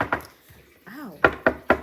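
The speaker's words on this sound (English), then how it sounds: "Knock, knock, knock." Knocking on a door during a stage play: a couple of sharp raps, a short vocal sound in between, then three loud, evenly spaced knocks close by.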